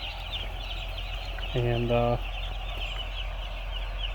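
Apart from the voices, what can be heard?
young chickens clucking in a poultry house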